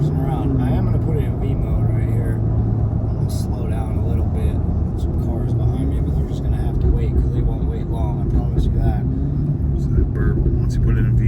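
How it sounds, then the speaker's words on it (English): A Cadillac Escalade-V with bolt-on upgrades and open exhaust flaps in V mode, cruising slowly with a deep, steady exhaust burble and engine drone heard from inside, under a voice talking. "Once you put it in V mode, you Yeah, we get that burble."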